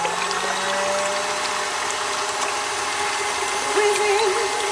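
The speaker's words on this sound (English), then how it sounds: "I'm gonna whisk this" Electric mixer whisking eggs with caster sugar for a strawberry roulade, a steady close whirring drone with a rattly mechanical edge that holds evenly throughout, no talking.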